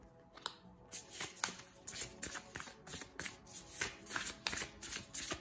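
Oracle cards shuffled and drawn one after another, a steady run of crisp riffling flicks and soft slaps close by, with no talking.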